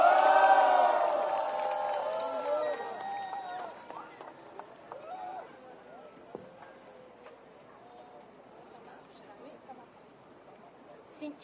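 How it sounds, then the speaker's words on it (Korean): A crowd at an outdoor protest rally cheers and claps loudly at first, then the noise fades within a few seconds to a quieter murmur with scattered sounds. "누엔닥 누마이 님을 뜨거운 박수 함성으로 모시겠습니다."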